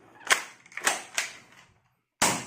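Several sharp pops from Nerf toy blasters, a sniper-style rifle among them, firing in quick succession: three close, punchy shots, a brief pause, then a louder fourth burst.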